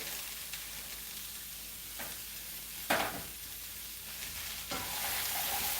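Carrots and other vegetables sauté in olive oil in a pan, a continuous close sizzle with a few scraping stirs and one sharper clatter near the middle, with no talking.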